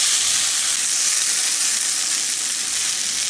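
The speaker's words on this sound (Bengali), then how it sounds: "মশলার সঙ্গে মাছগুলো খুব ভালো করে কষিয়ে নিতে হবে।" Stingray fish frying with spices in a pan, a steady dense sizzle that stays loud and even throughout with no voices.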